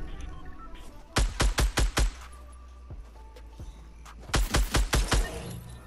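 Two rapid bursts of Fortnite gunfire, each about five or six sharp, loud shots in quick succession, separated by a quieter stretch of game ambience.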